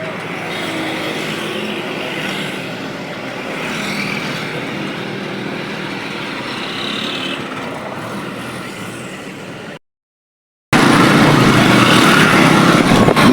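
Steady roar of a booked motorcycle taxi riding through Rawalpindi traffic, constant wind and engine rumble throughout, broken by a brief dropout before the noise returns louder.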